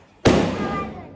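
A single Diwali firecracker goes off nearby in a street celebration in Koliwada, one sharp, loud bang whose crackling roar rings out and fades over about a second.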